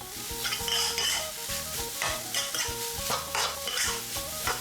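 Shrimp fried rice is stir-fried in a pan with salt, sugar, seasoning powder and light soy sauce, giving a constant sizzle broken by rapid, rhythmic scraping and clanking of a spatula against the metal.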